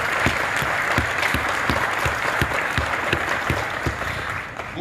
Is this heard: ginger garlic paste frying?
no